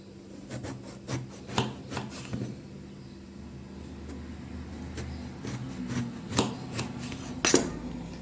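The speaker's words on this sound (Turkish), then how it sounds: "Şimdi dört tane patlıcanımı dilimler halinde doğrayacağım." A knife repeatedly slicing eggplant on a cutting board, with a steady uneven rhythm of close chops and scrapes and a low background hum.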